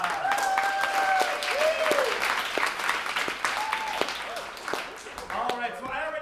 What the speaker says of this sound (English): Let's welcome them back in with some applause.